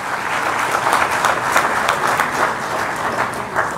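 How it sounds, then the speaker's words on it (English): An audience at a national management convention applauds to welcome Minister of State for Civil Aviation Jayant Sinha, a dense, steady round of clapping from a large crowd that holds without a break. "Let's welcome him with a warm round of applause."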